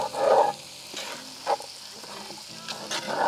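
Celery and leek frying in a Dutch oven, a low sizzle punctuated by a few bursts of louder crackling and stirring scrapes, close and intermittent.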